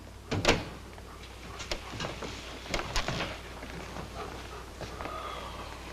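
A door opens as visitors step into a room, with a sharp latch click followed by a few lighter knocks and shuffling footsteps, moderately close, with no voices.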